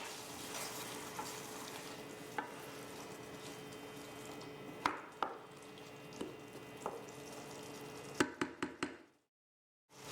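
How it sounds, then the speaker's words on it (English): Spaghetti squash with salt and pepper being stirred in a hot pan, steady sizzling and frying with scattered scraping knocks of the utensil against the pan, ending in sudden silence. "Stir to combine."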